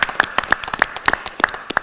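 A town hall audience gives a short round of applause for volunteers: close, crisp hand claps in a brisk, uneven patter, loud and with no talk over them.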